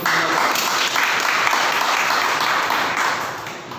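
A church congregation breaks into loud, sustained clapping, a thick continuous roar of many hands that holds steady before easing off slightly at the end.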